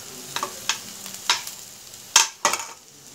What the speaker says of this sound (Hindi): अब हम यहाँ पे हमारे टमाटोज ऐड करेंगे